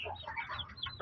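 Three-week-old Shamo chicks clucking and peeping in a steady, busy chatter of overlapping calls, fairly close and continuous throughout.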